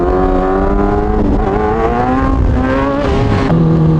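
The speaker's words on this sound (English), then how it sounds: "rev it to 8K, and then dump it." Loud close motorcycle engine in first gear revving up high, its pitch climbing in steady waves, then dropping sharply near the end as the clutch is released.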